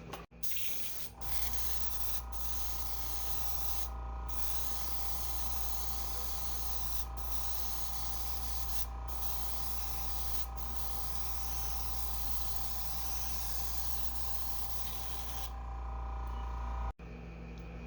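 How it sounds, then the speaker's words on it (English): An airbrush sprays white paint onto a carved lipless crankbait lure, giving a steady, close hiss that runs almost unbroken with a few brief pauses. "Airbrush sprayed a little bit weird, but that's fine."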